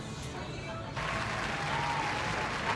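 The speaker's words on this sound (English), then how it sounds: "Yes, insert applause here." Applause sound effect kicks in abruptly, a steady wash of clapping that swells and holds at moderate loudness after a quieter background.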